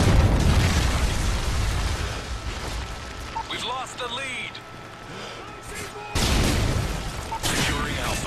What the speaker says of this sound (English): Throw a grenade up there.